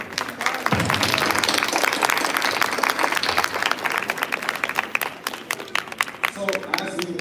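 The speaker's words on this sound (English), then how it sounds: "we should give a round of applause to Kiran." Audience applause for a veena player at a Kalai Manjari music event, a dense, steady clatter of many hands clapping throughout, with voices mingling in the crowd.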